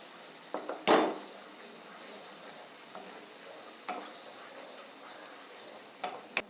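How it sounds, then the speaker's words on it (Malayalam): A spoon stirs tuna fish pickle gravy in a pan, giving a few soft scraping knocks, one louder clatter near the start and scattered strokes later over a faint low sizzle, with no talking. "ഇത് 5 മിനിറ്റ് ഒന്ന് ഇളകി കൊടുക്കാം. നന്നായിട്ടൊന്ന് മിക്സ് ആവട്ടെ."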